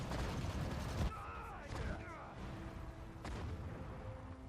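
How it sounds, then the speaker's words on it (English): Anti-aircraft guns firing during an air raid at Dunkirk in Sudden Strike 4, with sharp bursts and booms near the start, middle and later over a rumbling battle backdrop. "Air raid! Man the air guns!"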